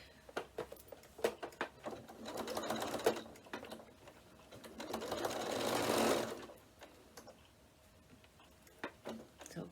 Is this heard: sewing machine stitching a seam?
yes